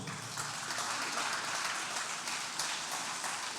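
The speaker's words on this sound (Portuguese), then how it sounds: "Pode aplaudir então." A church congregation applauds during a Wednesday service, a dense, even wash of many hands clapping that fills the room and carries on without a break at moderate volume.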